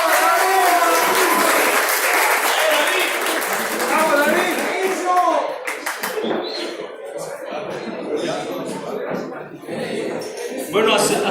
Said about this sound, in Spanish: Vamos a calificar todos con aplausos